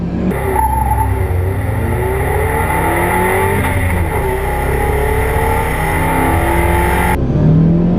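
A Mazda economy car launched hard from a standstill in a 0 to 60 test, engine revving loud and rising through gears with tire wheel spin, a sustained close roar from inside the car.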